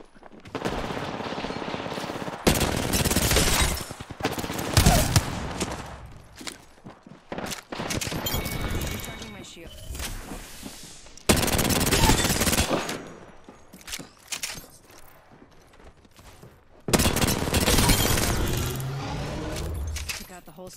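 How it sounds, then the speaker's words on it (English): Automatic weapons fire in bursts during a first-person shooter video game, loud and close, rattling in long sustained volleys separated by short pauses, with a player talking over it. "I'm taking shots."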